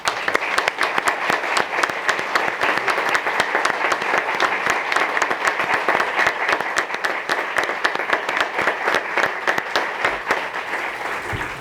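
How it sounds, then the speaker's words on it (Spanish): An audience in a hall at an afternoon session applauds, sustained crisp clapping from many hands, loud and even throughout with individual claps standing out. "Un aplauso para todos."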